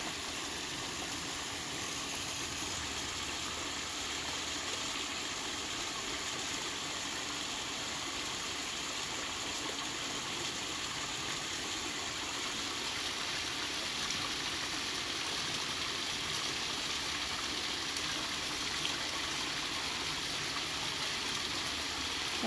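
A waterfall flowing outdoors, a steady broadband rush of falling water heard continuously at a constant level, with no voices.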